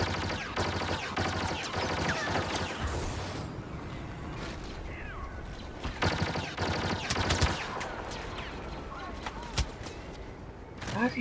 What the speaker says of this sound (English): Why is he still shooting?